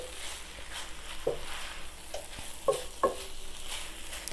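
Beef taco filling sizzles in a pan while a utensil stirs it, with a few distinct scrapes and knocks over the constant quiet frying hiss.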